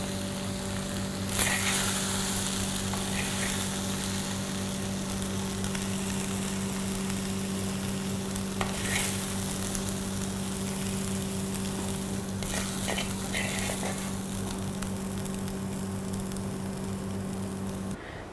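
Okra stir fry cooks uncovered with chili powder in an open pan, giving a loud, continuous close sizzle with a steady hum underneath and occasional scrapes of stirring.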